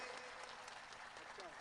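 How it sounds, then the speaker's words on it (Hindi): An audience claps steadily and fairly loud at a Hindi kavi sammelan (poetry gathering) held in a market yard in Pansemal, a dense, continuous burst of applause with no break. "एक बार जोरदार तालियां बजाइए।"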